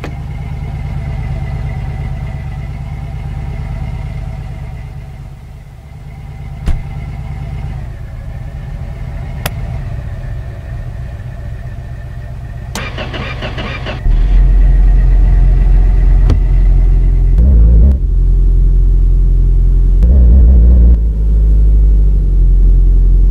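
A sedan's engine in the My Garage PC simulator idles with a steady low rumble, then roars louder and deeper as the car drives off, with a few sharp clicks along the way.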